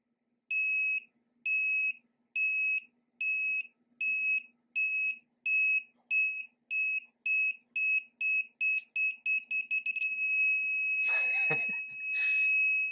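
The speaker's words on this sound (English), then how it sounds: "Turn off the buzzer, wait half a second, and then restart." A high-pitched active buzzer on an Elegoo Uno starter kit beeps repeatedly, the beeps getting shorter and faster until they merge into one continuous tone, followed by a brief rustle.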